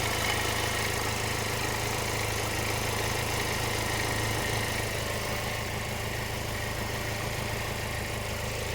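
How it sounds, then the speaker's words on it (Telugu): A 2020 Kia Seltos HTX Plus diesel sits idling, its engine a steady, even hum with a broad constant hiss, unchanging throughout and with no voices over it. "చాలా సైలెంట్ ఉంది ఇంజిన్ కూడా"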